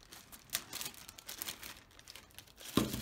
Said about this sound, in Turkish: Şunun devamını açtığımızda şu şekilde poşet var.